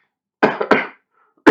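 Three sharp coughs close to the mic, two in quick succession and then a pause before another.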